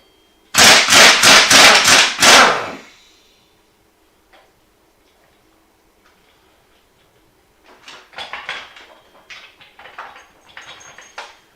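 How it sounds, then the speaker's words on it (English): Air tools running in a home garage during a 4-lug axle conversion: a loud, close burst of rapid pneumatic hammering, then quiet, then lighter intermittent ratcheting clatter. "There are going to be some loud noises because I'm going to be running some air tools."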